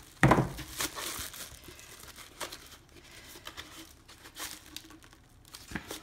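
Plastic peeled away from a resin vase mold, starting with a crisp crinkling tear, then quieter rustling and crackling as the sheet is worked loose by hand, close and moderately soft.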